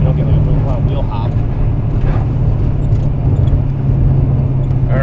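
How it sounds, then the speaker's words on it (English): A supercharged 1995 Ford Mustang SVT Cobra drives at steady speed on a test drive, with a constant loud engine drone and road noise from inside the cabin under a man's speech. "that concludes the test drive of the Mustang"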